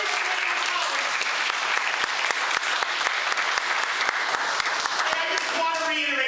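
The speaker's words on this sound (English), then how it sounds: "can we have a warm round of applause, please, for Eduardo Chavez?" An audience applauds after a college guest lecture, with dense, sustained clapping at close range that holds steady and thins near the end as a voice begins.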